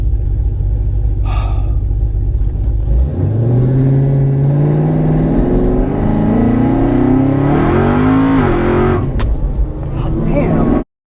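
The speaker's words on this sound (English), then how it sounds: "Maybe I'll do a little burnout." A drag racing car does a burnout on a drag strip, its engine a loud, deep rumble that climbs into a rising rev and holds at high pitch before cutting off abruptly.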